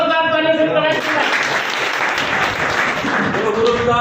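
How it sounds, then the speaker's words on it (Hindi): Loud, sustained applause from a rally audience welcoming guests at an election campaign gathering in Sadhaura, a dense wash of clapping that starts just after a voice and carries on steadily to the end. "जोरदार तालियों से स्वागत करें।"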